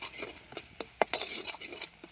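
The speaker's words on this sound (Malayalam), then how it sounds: "നമുക്ക് നന്നായി മിക്സ് ചെയ്ത് ഇതിൻ്റെ ഒരു പച്ചമണം മാറുന്നവരെ നന്നായിട്ട് മിക്സ് ചെയ്ത് കൊടുക്കണം" A spoon stirs spices into sardine curry in a pan, scraping and clinking against the metal in quick irregular strokes, with a faint sizzle underneath.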